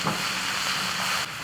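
Lean pork and ginger stir-frying in hot oil in a wok for a Guizhou dish, a loud, steady, close sizzle with a continuous hiss that drops slightly near the end.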